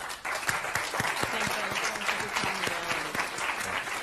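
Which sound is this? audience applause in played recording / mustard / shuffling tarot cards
audience applause in played recording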